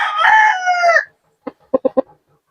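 A gamefowl rooster in a backyard lets out one loud, full crow, then falls quiet before giving three or four short, sharp clucks close by.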